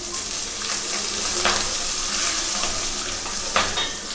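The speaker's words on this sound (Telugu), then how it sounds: "ఫస్ట్ అల్లం ముక్కలన్నీ వేసుకుంటాను." Ginger pieces sizzling in hot oil for vegetable masala upma, a steady close frying hiss with occasional stirring scrapes and crackles, alone without talk.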